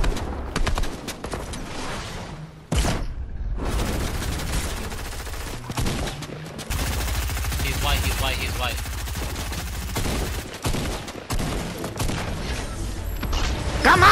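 Rapid bursts of gunfire from a Fortnite match, loud and close, with repeated volleys, brief pauses and people talking over the shooting.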